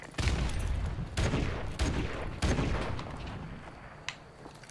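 Heavy gunfire from a weapon in Call of Duty Modern Warfare Remastered, several loud booming shots and short volleys spaced over a few seconds.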